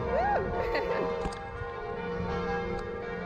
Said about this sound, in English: Lovely sound bell here in Côte-des-neiges.